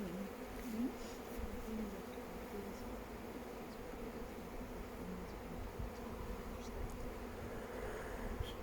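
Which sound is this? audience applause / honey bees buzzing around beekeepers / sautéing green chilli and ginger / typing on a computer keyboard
honey bees buzzing around beekeepers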